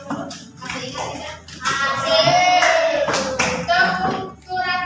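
A classroom of children performs a rhythmic clapping chant, with bursts of hand claps mixed with voices calling out in unison, loud and close, swelling and pausing in patterned phrases.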